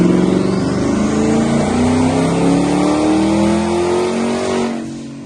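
A twin-turbo Ford Mustang S650 runs hard on a dyno, its engine note climbing steadily through a long loud pull for several seconds before cutting off and fading near the end, close and without talk.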